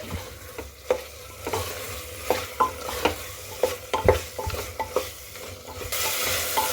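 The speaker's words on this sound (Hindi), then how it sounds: "अब हम मसालों के साथ मशरूम को भी अच्छे से भून लेंगे।" Mushrooms fried with spices in butter inside a pressure cooker are stirred briskly. A spoon scrapes and knocks the metal pot in an uneven rhythm over a continuous near sizzle that swells louder at the end.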